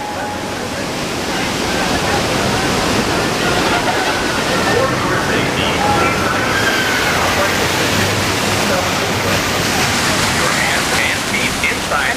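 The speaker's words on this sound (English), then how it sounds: "these waterfalls here seem much more stronger than how I remember them" Powerful waterfalls on a water park rapids ride roar in a loud, steady rush of splashing water that fills the space without a break.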